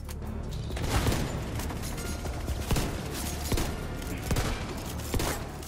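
Shotgun blasts in a first-person shooter video game, several loud booming shots spaced irregularly over dense continuous game noise and rumble, with no speech.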